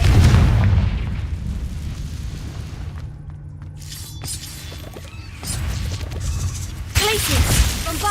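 Spell explosions in the video game Hogwarts Legacy: a heavy boom opens, followed by scattered crashes, crackling impacts and shattering bursts over a rumbling game soundtrack.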